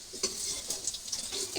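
Food fries in a kadai in a village kitchen, giving a steady hissing sizzle with a few quick scraping stirs, close and quiet, with no one talking.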